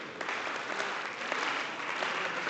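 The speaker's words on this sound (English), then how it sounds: "Your clapping started slowing down." Audience clapping together in a lecture hall, a dense, steady patter of many hands held at an even level for a couple of seconds, no voices over it.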